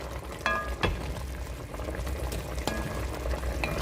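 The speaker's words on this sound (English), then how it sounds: "you need to smell this and listen to that sizzle" A soft, steady sizzle and bubbling from a pot of Jamaican stew chicken, with a few light clinks and knocks of a utensil over the continuous hiss.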